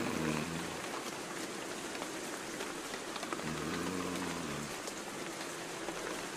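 Steady rain falling, a dense continuous hiss of drops on surfaces at even loudness throughout, with a faint low hum beneath it and no one talking.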